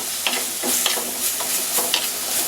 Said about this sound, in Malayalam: മിക്സ് ചെയ്യുക, നല്ലതുപോലെ ഒന്ന് വഴറ്റിയെടുക്കുക.